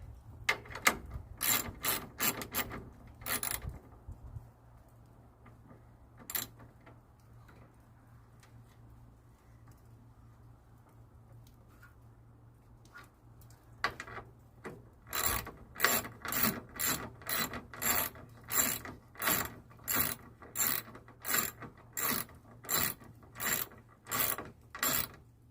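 A ratchet tightening bolts on the radiator fan shroud of a 1986 Ford Mustang 302, with bursts of rapid clicking strokes, a quieter pause, then a long run of steady, evenly spaced ratcheting clicks up close.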